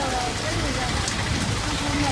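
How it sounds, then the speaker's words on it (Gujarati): Heavy rain falling steadily, a dense continuous hiss of drops on surfaces that stays loud throughout with no breaks. "તો બહુ વરસાદ ચાલુ છે"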